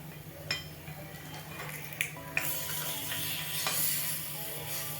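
Vallarai kuzhi paniyaram made with pennywort greens sizzle softly in a cast pan as they are turned, with scattered metallic clinks and scrapes of a utensil over a steady frying hiss.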